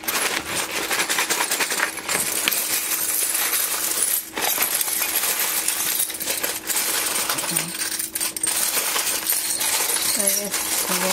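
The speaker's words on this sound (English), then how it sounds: "I will be shuffling my charms." Dense, continuous metallic jingling and clinking, like a handful of small metal charms being shuffled close up, loud and unbroken throughout.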